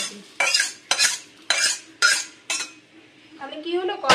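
Dal is stirred in a kadai with a spoon, about five rhythmic scraping strokes in quick succession, close and fairly loud, followed by a softer bubbling swirl.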